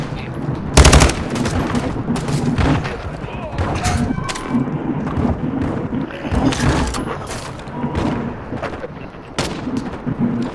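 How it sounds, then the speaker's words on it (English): Shotgun blasts in Call of Duty: Modern Warfare II, heard as repeated loud gunshots scattered through a busy stretch of game combat, with a player talking over the gunfire throughout. "Oh my god, this shotgun's so OP."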